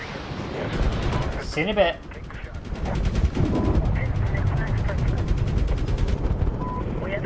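Gunfire in the Medal of Honor video game, rapid bursts of automatic rifle fire and heavier booming shots mixing into a steady, loud battle din, with a player's voice talking briefly over it.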